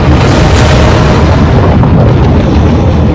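A huge, sustained roar of a nuclear explosion fills the whole clip, loud and rumbling with a dense low-end boom that barely fades.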